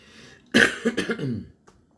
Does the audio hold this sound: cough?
yes